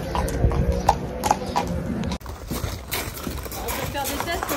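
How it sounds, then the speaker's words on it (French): A ridden horse's hooves clip-clop in a steady rhythm close by, with a rider speaking over them outdoors. "me voilà à cheval"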